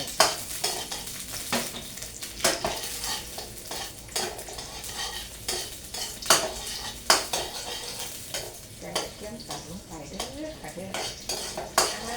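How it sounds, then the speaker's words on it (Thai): Chopped garlic tossed and stir-fried in a pan with oil and pork, spatula scraping and clinking against the pan in a steady irregular rhythm over a soft sizzle, close and fairly loud with no talking. "นี่ใส่กระเทียมตัดลงไป"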